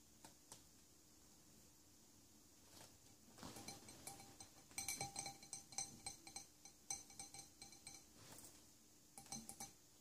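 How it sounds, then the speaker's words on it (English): Light taps on glass produce soft, bright pings and clinks, scattered irregularly and clustering in quick bursts, faint and close against a quiet background. "I like the gentle ping of the sound of tapping on glass."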